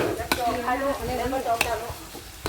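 Meatballs fry in hot oil for a children's birthday gathering, giving a close, steady sizzle with a few sharp clinks of utensils against the pan and a faint background voice.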